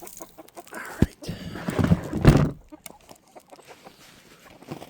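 Brahma chickens cluck softly in short bursts near the coop, with a louder burst of clucking and rustling in the middle; no one speaks.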